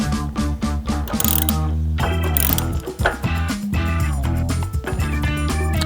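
Hand ratchet tightening a nut on a chrome saddlebag guard eliminator kit for a 2014 Harley-Davidson Touring motorcycle, a quick run of sharp, close clicks in bursts with brief pauses between strokes.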